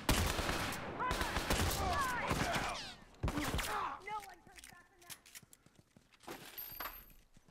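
Gunfire from The Last of Us, loud broadband bursts packed into the first few seconds, then thinning to scattered cracks, with someone talking over the action.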